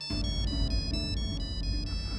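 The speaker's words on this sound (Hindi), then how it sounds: "सिमी दी का फोन है" A phone ringtone plays steadily for about two seconds, a repeating electronic melody pulsing in short regular bursts, fairly loud and close, with no voices over it.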